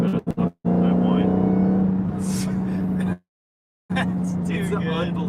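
A Dodge Challenger SRT Demon engine holds a steady, high whine with a sharp drop into silence midway, then the same whine returns; speech-like sounds mingle with it.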